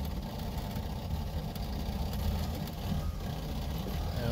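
A boat's engine fitted with a Holley Sniper EFI idles with a low, steady rumble that rises and falls slightly in a mild surge, heard up close with no talking.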